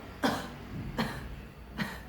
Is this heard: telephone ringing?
no